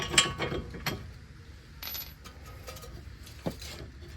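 Metallic ratcheting and clinking of tools while front bearing bolts are removed from a Toyota Corolla, with several sharp clicks and short mechanical rattles at close range in a quiet workshop.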